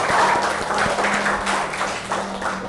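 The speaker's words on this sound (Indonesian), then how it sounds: "Tepuk tangan." Applause from a classroom audience at a teacher-training presentation in Indonesia, with dense, steady clapping that fills the room and tapers slightly toward the end.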